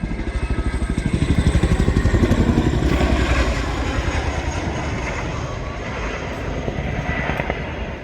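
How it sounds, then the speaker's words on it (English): A large Chinook tandem-rotor helicopter passes close at an air show, its heavy rhythmic blade thump loud and steady, swelling as it nears and easing slightly as it moves along, with a continuous engine roar beneath. "The display today demonstrates how surprisingly manoeuvrable this large helicopter is."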